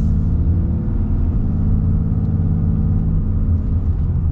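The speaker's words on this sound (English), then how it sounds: "So just partial throttle here." A 2023 Ram 2500 Big Horn with the Cummins diesel accelerates at partial throttle, its deep engine rumble and drone steady and close from the cabin, with no talk over it.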